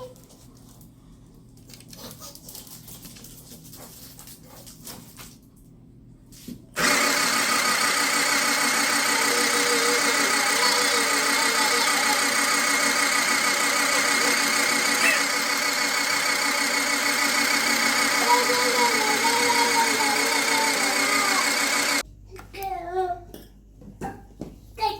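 A sewing machine stitches the corners of a fitted bed sheet, a loud continuous motor whir with rapid needle chatter running for about fifteen seconds, framed by quieter handling noises and brief voices.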